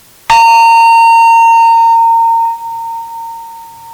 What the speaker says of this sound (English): let me ring a bell here